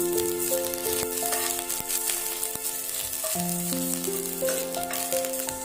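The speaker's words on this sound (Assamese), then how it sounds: "এয়া মই তেলটো পিঁয়াজ দিছোঁ আৰু গেছটো কমাই দিছোঁ। পিঁয়াজ দি ভালদৰে লৰাই দিছোঁ।" Onions sizzling and frying in hot oil on a gas stove for an Assamese fish curry, steady crackle with a spoon stirring and scraping the pan, plus intermittent tonal beeps in the background.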